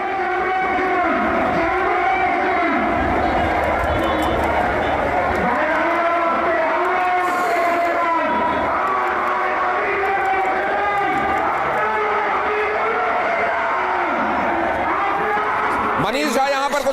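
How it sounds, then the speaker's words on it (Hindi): A large riotous crowd in Bangladesh chanting anti-India slogans, loud rhythmic massed voices that sound continuously throughout with a reporter's talk layered over them. "ये भीड़ देखिए, ये नारे सुनिए, और वहां पर भीड़ के उन्माद को महसूस कीजिए।"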